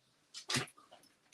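A single quick sneeze, short and sharp, preceded by a brief intake of breath, in an otherwise quiet room.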